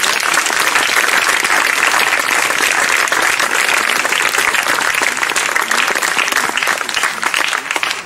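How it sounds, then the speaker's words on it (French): Concert audience at an outdoor summer show in Corsica applauding, a loud, dense, continuous wash of clapping from a large crowd sustained throughout, tapering slightly at the very end. "Vous pouvez l'applaudir."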